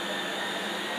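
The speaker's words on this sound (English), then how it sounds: "Do you like to vacuum?" A household vacuum cleaner runs steadily and close by, a continuous loud whooshing drone with no pauses and no voices over it.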